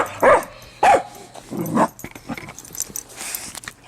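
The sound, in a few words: dog whimpering and barking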